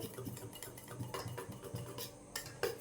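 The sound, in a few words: stirring food colouring powder into a bowl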